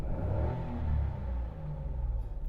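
Toyota Aygo / Citroen C1 small petrol engine revved after its idle control valve was cleaned, a steady close engine rumble that swells briefly and eases back, with no talking.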